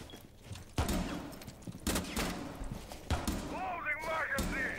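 Bursts of gunfire in the video game Rainbow Six Siege, several loud sharp volleys spaced a second or so apart, with people talking over the shooting and game effects.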